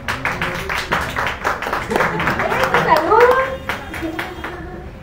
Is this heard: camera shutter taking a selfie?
no